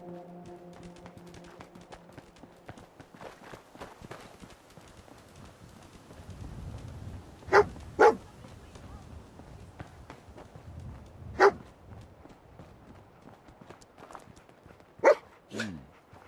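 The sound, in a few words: dog Dogmeat barking in video game Fallout 4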